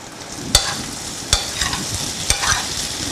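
A spoon stirring a potato mixture into peas cooking in a pan for samosa filling, with several distinct scraping strokes over a soft steady sizzle, close and alone.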